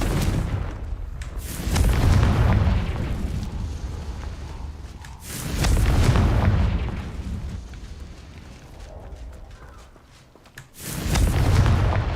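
Confringo blasting-spell explosions in the game Hogwarts Legacy, three loud booming bursts at spaced intervals, each rumbling out before the next.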